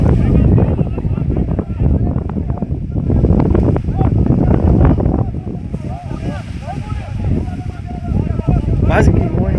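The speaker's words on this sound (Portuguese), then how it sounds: "Olha o vento, mano." Strong gusts buffet the microphone in loud, rough rumbles while someone speaks over them outdoors, at a launch of a giant balloon.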